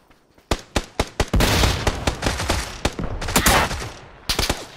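Gunfire in a first-person video game shooter: sharp, loud shots in irregular bursts, some single cracks and some rapid clusters, with a sustained volley in the middle and near, punchy reports alone without talk.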